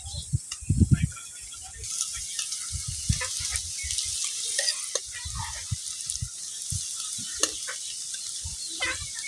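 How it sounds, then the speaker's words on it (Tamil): Cooked rice tipped into garlic frying in a pan and stirred together for garlic rice: a steady, close sizzling hiss runs throughout, broken by repeated soft thuds and scrapes of the spoon, loudest early on. "நாம இப்போ ரைஸ் போட போகிறோம்"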